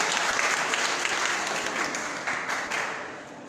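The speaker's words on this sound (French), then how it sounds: "je voudrais que vous applaudissiez maintenant pour Junior également" A hall full of people claps for a contestant at a quiz final, a dense, even wash of applause that holds steady and eases slightly toward the end.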